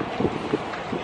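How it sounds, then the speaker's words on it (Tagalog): Wind gusts buffet the microphone outdoors in Calgary, a steady rough rush with three short low thumps of heavier blasts, loud and close throughout. "Windy kasi guys eh."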